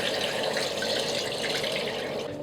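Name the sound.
pouring clean cold water over meat for shurpa broth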